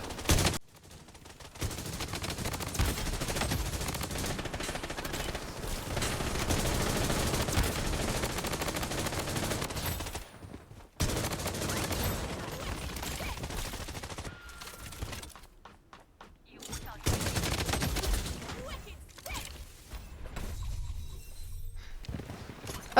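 An M4 assault rifle fires in the mobile shooter Bloodstrike. Long automatic bursts come close and loud, broken by brief pauses and reloads, with a few shorter volleys near the end.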